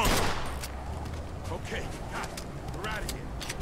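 Sustained gunfire in the crime shooter video game Mafia II: dense, rapid shots and bursts crackle continuously through a firefight, loud and close, with voices calling out over the shooting.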